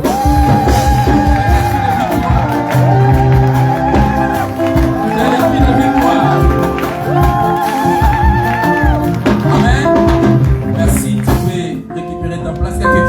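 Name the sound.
congregation shouting cries of victory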